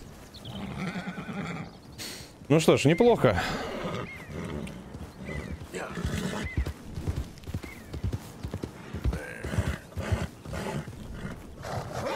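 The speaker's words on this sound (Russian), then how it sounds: "Вы успешно укротили лошадь." A horse in the Red Dead Redemption 2 video game gives a loud, close neigh, with hoofbeats and snorting around it, while someone talks intermittently over the game sounds.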